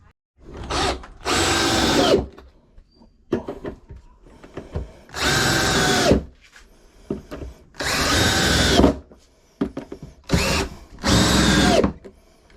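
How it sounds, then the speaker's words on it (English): A power drill drilling into wood whirs in five loud bursts of one to two seconds each, close by, with short quiet gaps and light handling noise between them. "You can keep drilling them right through the wood."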